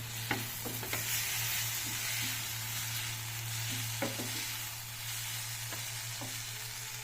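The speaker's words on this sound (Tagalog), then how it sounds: "Lutuin ko muna to tomato" Tomatoes and tomato sauce cooking in a pan, with a steady sizzle and bubbling over a low constant hum, and occasional soft scraping knocks of a utensil, close and with no talk.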